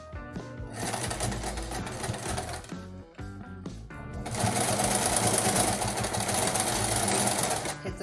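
A sewing machine stitches fabric for a rag doll's long-sleeved shirt, running in a close, rapid mechanical whir for a couple of seconds, pausing briefly, then running again in a longer, louder burst.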